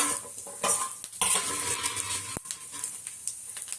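Pepper, garlic and cumin fry in a little oil for fish curry, a steady close sizzle with a spoon stirring and scraping against the pan, no voices.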